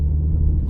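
Low, steady rumble of a MINI Cooper S rolling along a rough, winding mountain road, a brief close-up stretch of engine and road noise with no talking.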